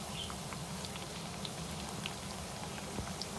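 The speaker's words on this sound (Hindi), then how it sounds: "ये देखें बिल्कुल ज़बरदस्त फ्राई हो रहे हैं" Potato lachha pakoras fry in hot oil in a pan, giving a steady, dense sizzle with small crackling pops throughout, close and even in level, with no talk.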